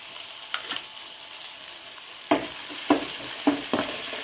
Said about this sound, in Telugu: అల్లం వెల్లుల్లి పేస్ట్ పచ్చివాసన పోయేంత వరకు ఫ్రై చేసుకోవాలండి